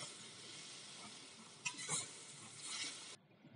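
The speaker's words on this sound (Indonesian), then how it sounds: "Lalu kami goreng." Food sizzles steadily in a frying pan, a dense broadband hiss with a couple of brief stirring scrapes midway before it cuts off sharply near the end.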